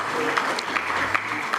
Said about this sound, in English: I'd like us to applaud the interpreters.